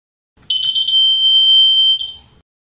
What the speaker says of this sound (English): When urine comes, buzzer will be on.